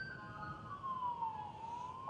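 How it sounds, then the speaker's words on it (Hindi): An ambulance siren wails as it passes through a tense street in Lebanon, its rising and falling tone moderately distant and sweeping in pitch over low background noise. "ये देख लीजिए एम्बुलेंसेस और जा रही हैं।"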